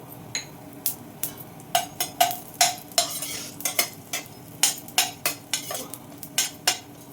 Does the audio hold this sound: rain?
no